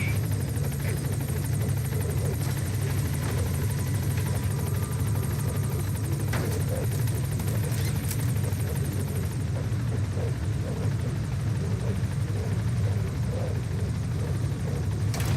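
The Pequod helicopter hovers at a landing zone in the video game Metal Gear Solid V, its rotor giving a steady low thudding rumble with a constant engine whine, loud and continuous throughout with no speech.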